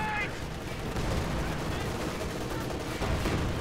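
Mortar and gunfire rumble in a Company of Heroes 2 multiplayer battle on the Western Front, a dense, low continuous barrage of distant blasts and shots, fairly faint.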